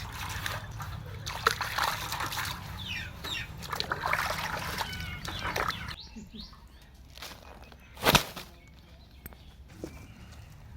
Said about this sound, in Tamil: இப்போ இந்த பால்சரா மீனை சுத்தம் பண்ணி எடுத்துக்கலாம் நல்லா தண்ணியில் அலசிக்கலாம்